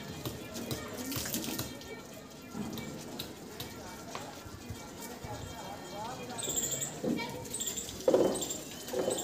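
Water runs from a tap as a toy car is washed at a children's busy board, a soft continuous splash with clattering under frequent chatter from people nearby.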